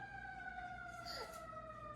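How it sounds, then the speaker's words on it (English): An emergency siren wails steadily with a rising and falling tone, fairly loud and sustained throughout, with faint background noise. "Sirens. Wee woo. Wee woo car."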